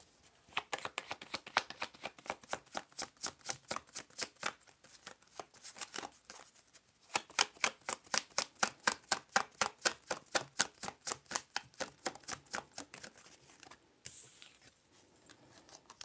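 Tarot cards being shuffled for a reading, a long run of fast, crisp riffling bursts in steady rhythm, close and fairly loud, with a brief pause near the middle and softer handling at the end; no one speaks.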